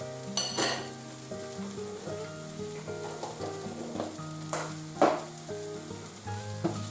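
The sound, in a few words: butter melting and foaming in a hot pan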